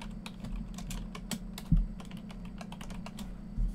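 Rapid, uneven clicking of keys on a computer keyboard comes in a close, steady patter with occasional heavier thumps, over a low background hum and no talk.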